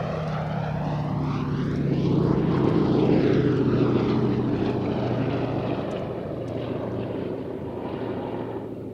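The B-17 bomber Sally B flies past at the Cosford airshow, its propeller engines giving a loud, continuous rumbling drone that swells and shifts pitch as it passes, with no voices.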